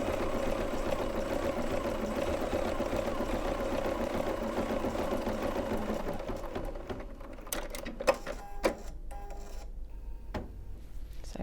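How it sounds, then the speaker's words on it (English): Computerized embroidery sewing machine stitching a satin stitch, a steady close mechanical whirr and rapid needle rattle running continuously, easing into quieter clicks and a few sharp taps near the end. "once it's done this, it will do the satin stitch to keep everything nice and neat"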